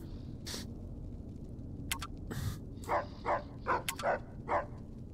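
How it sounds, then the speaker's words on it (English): A dog barks several times in a quick series at moderate distance in the video game Fallout: New Vegas, with a few earlier yips, over a low steady background hum. "I can hear him barking"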